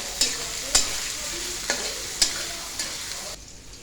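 Chopped onion, garlic and green chilli fry in a pan with a continuous hiss, broken by about six sharp spatula scrapes at an uneven pace, loud and near; no voices.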